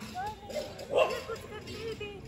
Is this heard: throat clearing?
no